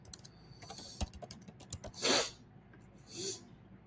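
Quick, light key taps on a computer keyboard while an address is entered, a run of faint clicks interrupted by two brief louder breathy bursts.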